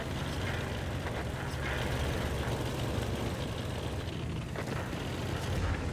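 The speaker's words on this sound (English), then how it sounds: "You can hear the engine. It's like two hamsters in a Volkswagen." In-game LHMTV light tank engine running, a continuous low, throaty rumble with slight fluctuations, heard on its own without any voices.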